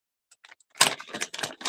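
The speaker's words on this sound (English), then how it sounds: "Paper rattling is one of my big pet peeves." Paper rattling and crinkling while clay is worked, several quick rustling bursts close by and fairly loud, with no talk.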